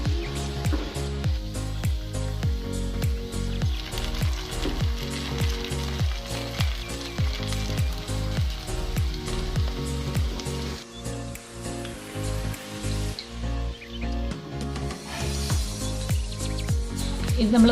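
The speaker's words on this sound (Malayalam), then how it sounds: "ഇത് നമുക്ക് തിരിച്ചും മറിച്ചു വിട്ടൊന്ന് വറുത്തെടുക്കാം." A homemade evening snack fries in hot oil, giving a steady close sizzle with rhythmic bursts as the pieces are turned over and back, and a voice is heard briefly.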